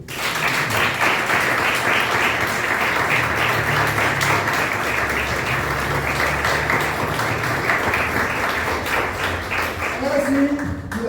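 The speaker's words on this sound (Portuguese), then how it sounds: "Então vamos dar uma salva de palmas para o Senhor." Church congregation applauding during a Portuguese-language worship service, a steady, loud wash of clapping sustained for about ten seconds, with voices mixed in beneath the claps.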